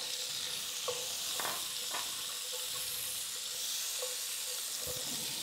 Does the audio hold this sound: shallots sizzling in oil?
yes